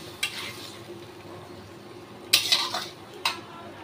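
Spiced potato and cauliflower curry is stirred in a pan, with a soft background sizzle broken by a few sharp clanks of a metal spoon against the pan, close and fairly quiet.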